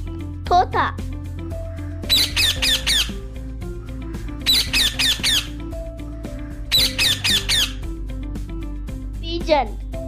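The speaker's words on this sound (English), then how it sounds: "Parrot" A parrot lets out three loud series of shrill, rapid squawks over a steady music backing, with a high voice speaking briefly at the start and end.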